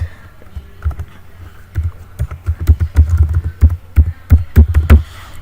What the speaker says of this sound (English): that's why I am typing my G Suite email address.